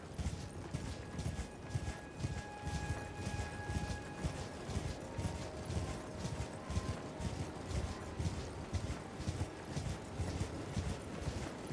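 Horse hooves clip-clop in a steady galloping rhythm while riding across open ground in the video game Elden Ring, continuous and fairly close throughout.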